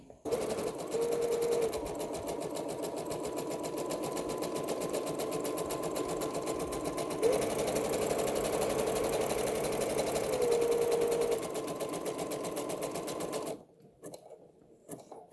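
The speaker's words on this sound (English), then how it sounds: "it's just going to overlock, zigzag over that raw edge so it doesn't fray" A sewing machine overlocks a zigzag stitch over a raw fabric edge while sewing a little dress, running steadily and close for about thirteen seconds with a continuous rapid hum before stopping abruptly.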